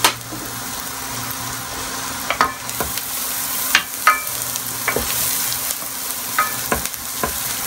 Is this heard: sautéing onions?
yes